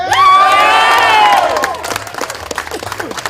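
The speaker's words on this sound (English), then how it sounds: "with an applause that will shake the rafters and rattle the bones of everybody at Adelup." A crowd at a Guam political speech event cheers and applauds loudly, with high shouts and whoops over steady clapping. The cheering gradually thins into scattered claps and calls.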